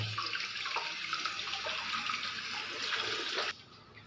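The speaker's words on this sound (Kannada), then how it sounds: "ನೀಟಾಗಿ ವಾಶ್ ಮಾಡಿಕೊಂಡ್ರೆ, ಯಾಕೆಂದರೆ ಮಣ್ಣೆಲ್ಲ ಇರುತ್ತೆ" Water runs steadily from a tap over leafy greens being washed in a home kitchen, a soft continuous splashing that stops abruptly near the end.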